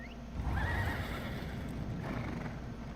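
A horse in the video game Elder Scrolls Online whinnies loudly up close, a drawn-out, wavering neigh over a steady background rumble, with a softer second call near the end.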